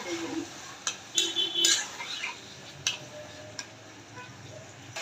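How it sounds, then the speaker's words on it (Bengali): Red lentils being stirred into softened onions in a frying pan, giving light scraping and clinking of a utensil against the pan in scattered taps over a low background hiss. "এখন মসুর ডালগুলো দিয়ে দিই পেঁয়াজের সাথে"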